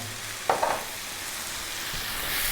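Crushed canned tomatoes frying with bacon and mushrooms in a pan, a soft steady sizzle with a couple of brief spoon scrapes from stirring, fairly quiet.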